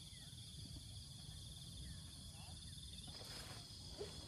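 A cicada sings with a faint, steady, high buzzing drone that runs unbroken throughout, with no other clear sound over it.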